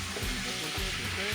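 Chunks of potato and carrot are stirred into a simmering beef curry sauce with spices, producing a continuous close sizzle with soft scraping strokes at a steady rhythm.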